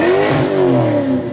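A Foxbody Mustang 5.0 with Flowmaster two-chamber mufflers revs loudly and close, its engine note rising and then sweeping down in a throaty, rumbling exhaust roar.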